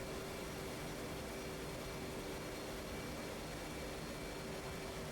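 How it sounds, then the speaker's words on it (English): An F/A-18C Hornet in the DCS flight simulator drops its landing gear and sets its flaps to full on approach, heard as a steady, loud, continuous jet engine roar with airflow noise and no distinct thumps. "I'll go ahead and I'll drop the gear and drop the flaps to full"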